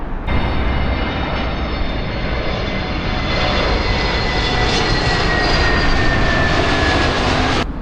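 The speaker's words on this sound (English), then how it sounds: "Right, that plane is really loud." A loud DHL cargo jet roars overhead near Heathrow, a steady powerful engine rumble with a whining high tone that slowly drops in pitch as it passes.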